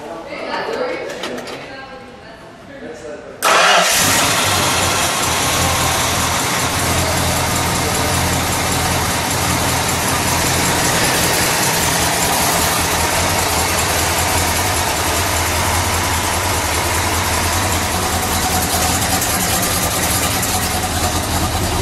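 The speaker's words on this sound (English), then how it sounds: "Let's fire it up," A 1969 Dodge Super Bee with a 440 engine cranks and fires up after a quiet moment with a voice and birds, then settles into a loud, steady, rumbling idle that runs on to the end.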